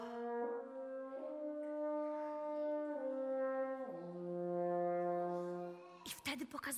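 French horn playing softly at piano dynamic, a slow sequence of sustained single notes stepping down in pitch, heard close and alone, followed by a brief burst of noise at the end.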